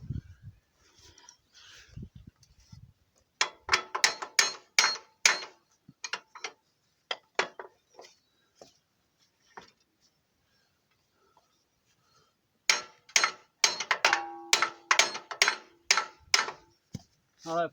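Sharp metallic hammer blows on a bolt of a horse-drawn mower ring out in two rapid bursts of repeated strikes, separated by a stretch of scattered, lighter taps and quieter pauses.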